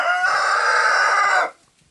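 A farm rooster crows once, close and loud, a single drawn-out cock-a-doodle-doo lasting about a second and a half before cutting off into near silence.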